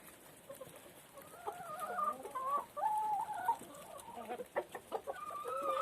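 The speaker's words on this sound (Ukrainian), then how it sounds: "Мої курочки, гарнюнькі курочки, петушочки." Backyard hens and roosters clucking and calling in a lively, overlapping chorus, with short bursts and pitched squawks rising and falling close by, and no talking over them.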